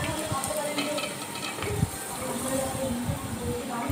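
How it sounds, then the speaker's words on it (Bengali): Washed chicken or goat liver pieces are tipped into a pot of fried spice paste. The pot answers with a continuous close sizzle and wet clatter, with scattered soft knocks as the pieces land. "এখন এটা সব ঢাইলা দিব পাতিলাতে"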